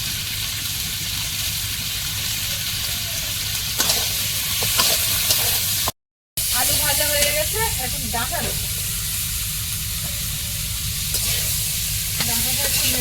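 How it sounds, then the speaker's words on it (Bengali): Potatoes fry in oil in a pan with a steady, close sizzle and hiss, broken by occasional scraping stirs, with a brief pause partway through. "এবার আলুটা একটু ভেজে নেব তারপরে শাকটা দেবো"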